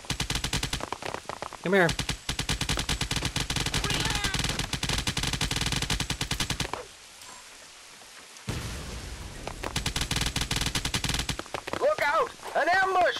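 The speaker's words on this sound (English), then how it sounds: "This is a rate of fire bonus. Now you can shoot a bit faster." Cannon Fodder 3 gunfire rattles in long, dense automatic bursts with a short lull between them. A voice calls out once.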